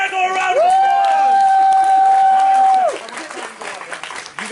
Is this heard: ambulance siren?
no